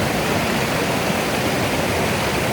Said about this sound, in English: This is glacier fed spring water. So it's deep, it's fast, it's cold.